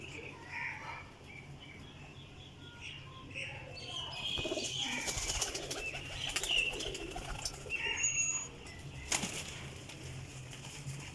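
Flying pigeons with fresh new feathers, part of a flock of about 38, beat their wings in repeated broadband flutters, louder in the middle stretch, with soft cooing and chirps around them.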